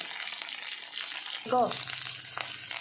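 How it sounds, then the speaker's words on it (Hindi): Okra sizzles steadily in a pan for Sindhi bhindi, a continuous close frying hiss; midway a short clank or squeak cuts in and a low hum follows under the sizzle. "अब हम इन भिंडियों को तब तक फ्राई करेंगे"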